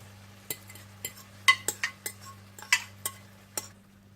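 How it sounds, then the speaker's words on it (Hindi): A utensil spreads egg over softened onions in a frying pan for a Spanish omelette, giving about nine light, separate clinks and scrapes at uneven intervals over a quiet low hum, with no voices. "और जब प्याज भी थोड़े से पक जाएं तो ऊपर आप अंडा डाल दें।"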